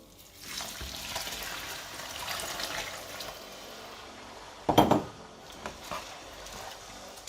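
Stock poured into risotto rice cooking in a pan, a steady wet hiss and sizzle with liquid splashing, followed by a few sharp clinks of a utensil near the end, close by and with no talking.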